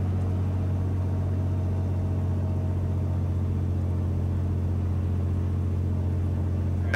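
Light aircraft piston engine held at 1800 RPM for a ground run-up, a steady loud low drone with a strong continuous hum and no break or change in pitch, heard alone without voices.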